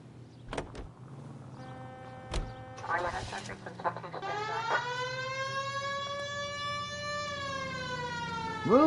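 A police car siren in the video game L.A. Noire starts up after a few short clicks and thumps, then holds a steady rising wail with layered tones, loud and close, with a brief bump at the end.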